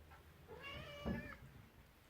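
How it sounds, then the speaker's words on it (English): A house cat gives a clear, rising meow lasting under a second, close by in a kitchen, followed by a low thump and quiet background. "Happy cat, inquisitive cat."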